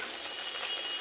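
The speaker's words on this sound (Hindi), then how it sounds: "इसको हम 1-2 मिनट हल्का सा भून लेंगे।" Vegetables for lauki (bottle gourd) sabzi lightly frying in a pan, a steady soft sizzle that stays even and close for the whole short moment with no talk over it.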